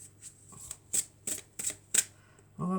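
Tarot cards are shuffled and drawn, several crisp riffling bursts in quick succession followed by a softer slide, close and fairly quiet, with a voice briefly heard.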